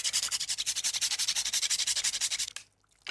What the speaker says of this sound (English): a good grating of nutmeg